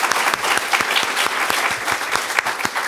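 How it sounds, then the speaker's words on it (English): An audience at a policy panel on immigration and the rule of law gives the speakers a round of applause, a close, full burst of many hands clapping with distinct individual claps audible throughout. "I'd like everybody to give them a quick round of applause."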